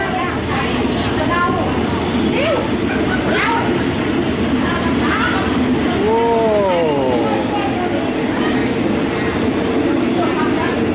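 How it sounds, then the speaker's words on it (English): A train pulls out of a station in Isaan, Thailand, its steady rumble and rolling wheel noise filling the scene, with a long squealing note partway through as people chat close by. "Just a train leaving from here."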